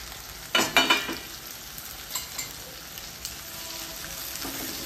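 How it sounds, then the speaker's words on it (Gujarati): Chopped okra drops into a hot pan for a Gujarati okra-and-onion dish, setting off a few sharp bursts of crackling sizzle that settle into a steady hiss, with light scraping stirs. "હવે આપણે એની અંદર ભીંડા જે સમારીને મૂક્યા છે એ અંદર એડ કરી દઈશું"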